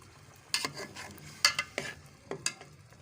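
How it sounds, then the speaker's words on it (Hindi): Rice cooking in a pot, stirred by hand with a spoon, making several quick distinct scrapes and clinks over a low background hiss, close by and with no talking. "एक हाथ से चम्मच हिला रही हूँ, चावल बना रही हूँ।"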